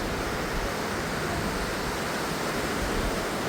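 Cold, clear snowmelt water rushing under a bridge on the Manali route in the Spiti region, a loud, dense, unbroken roar close by that fills the whole span with no voices.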